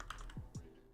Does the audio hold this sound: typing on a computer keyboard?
yes